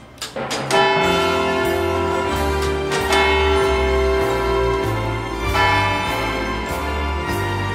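A town hall clock tower bell rings out loudly, with several resonant strikes a few seconds apart, each leaving a long ringing hum that blends into the next.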